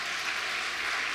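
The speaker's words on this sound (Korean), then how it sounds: "박수를 치려면 확실하게 치시고" Congregation clapping inside a church, a brief, fairly faint and uniform patter of many hands.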